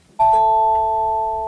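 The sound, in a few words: school bell ringing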